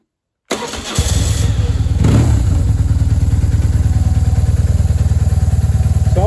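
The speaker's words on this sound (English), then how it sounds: "That's just sitting on idle." BMW R1150R motorcycle with a customised black-painted engine, heard from about a metre away cranking and firing up after brief silence, then settling into a loud, even, throbbing idle for several seconds.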